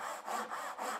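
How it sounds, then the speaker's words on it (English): A Tajima Japanese pull saw cuts through wood in steady, rhythmic strokes, about four close, loud rasping passes with brief dips between them and no talking. "So for sawing with this Japanese saw, it's all on that pull stroke."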